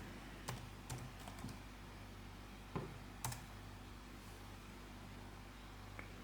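Computer keyboard typing a search in scattered quiet bursts of key clicks over a low fan hum, faint and close, with no voices.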